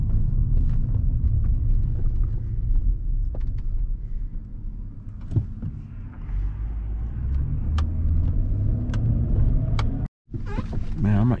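A pickup truck engine rumbles steadily while driving and accelerating, loud and close from inside the cab, with scattered clicks and a brief dropout near the end.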